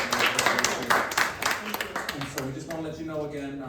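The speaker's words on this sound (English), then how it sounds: "final round of applause for Amy?" An audience at a community legal-literacy presentation on estate planning claps briefly, a burst of scattered claps in the first half that thins out as a voice begins talking.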